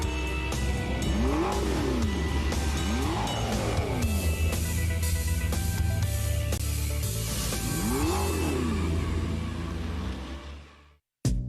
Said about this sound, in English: Supercars. This is loud.